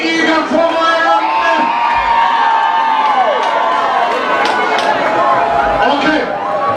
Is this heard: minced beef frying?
no